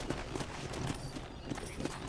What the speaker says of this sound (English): Look at this gorgeous horse right here.